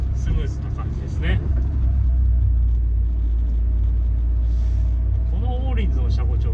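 Inside a Honda S2000 AP1 on the road, the engine gives a steady, low rumble that runs continuously throughout, with someone talking over it now and then.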